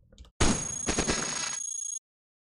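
Light cannon firing in the video game Cogmind, an abrupt loud electronic blast with rapid stuttering pulses and a steady high synthetic tone, cutting off cleanly after about a second and a half.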